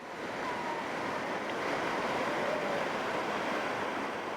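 Whitewater rapids on the American River rush in a continuous loud broadband roar, with no pauses, and no voices.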